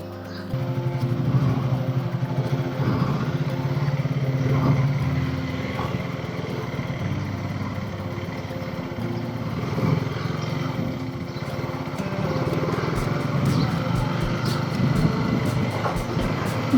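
A motorcycle engine runs steadily at close range, a continuous low rumble that swells and eases slightly over the whole stretch, with no talk.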